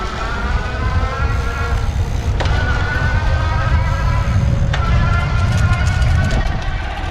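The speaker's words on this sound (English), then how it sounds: "you can hear the motor kick in quickly when I start pedaling" A Ride1Up Turris ebike's motor whirs steadily while pedaling at speed, a continuous engine-like hum with wind and road rumble throughout, loud and close, a rising tone briefly stepping up a couple of times.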